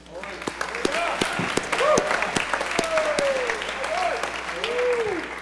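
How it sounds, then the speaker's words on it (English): A crowd applauds at a senior awards ceremony, with full, sustained clapping that swells and holds throughout while a voice speaks over it. "Let's give those 3 a round of applause,"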